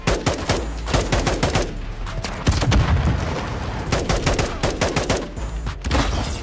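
Dense video-game gunfire from a Call of Duty Modern Warfare 2 benchmark run, with rapid automatic bursts, scattered single shots and heavy booms layered continuously at close range, no talking.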